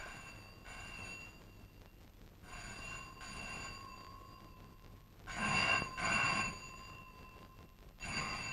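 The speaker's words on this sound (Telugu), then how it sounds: "ఫోన్ మోగడం కూడా వినపట్టం లేదా?" A telephone rings in a 1990 Telugu police film, with several repeated bursts of electronic bell ringing that stand out over a low background hum, with no talk.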